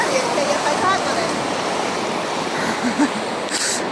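Sea waves break on a beach in a steady, loud, washing roar, with faint voices in the background.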